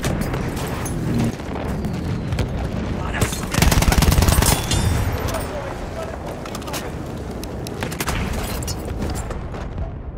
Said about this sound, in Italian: Ora lancio una granata!